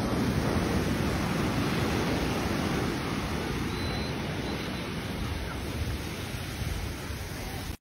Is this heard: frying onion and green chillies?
no